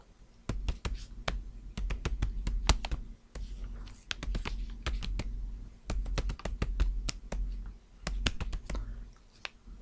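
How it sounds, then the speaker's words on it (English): Quick, dull tapping and soft crinkly clicks on plastic-wrapped flour bags in irregular bursts, close and fairly quiet, with a low bassy thump under many taps. "These are packs of flour inside plastic, so that it's a kind of a bassy tapping sound."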